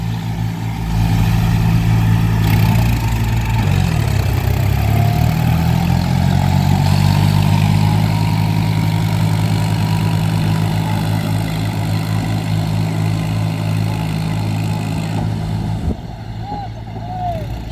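A New Holland 4710 tractor working in a field, its diesel engine droning loud and close, dipping and pulling back up mid-way as a gear change loads it, then running steadily on; someone talks over it.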